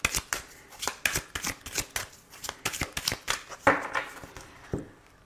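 Oracle cards shuffled close up for a reading, giving quick repeated papery riffles and taps in a brisk, fairly regular rhythm, with a louder flutter near the end and no speech.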